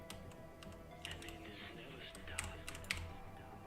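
Faint, soft typing on a computer keyboard, a scattering of light taps over a steady low hum. A few sharper clicks stand out near the end, and there is no speech.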